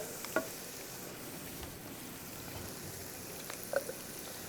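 Tomatoes fry quietly in oil with a soft, steady sizzle and a couple of faint clinks from stirring.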